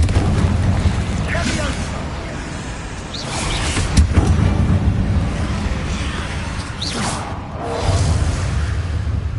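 Spell explosions from Hogwarts Legacy combat: repeated booming bursts and whooshes over a dense, continuous roar of battle, with louder blasts around the middle and near the end.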